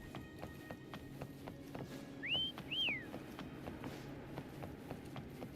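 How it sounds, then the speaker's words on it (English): Two short rising-and-falling whistles, sounded in the video game Wuthering Waves to call a creature, ring over a busy game soundscape with rhythmic hoof-like clopping and footsteps beneath. "Try whistling."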